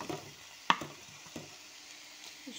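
Onions fry in a pan for Algerian shakshuka with merguez, giving a soft, steady sizzle with a single sharp clatter early on and a few lighter taps after.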